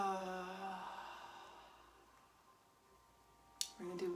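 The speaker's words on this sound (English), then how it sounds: "Exhale through the mouth." A slow, soft breath exhaled through the mouth during a guided breathing practice, faint and drawn out over a quiet background, followed by a brief click and a soft voice.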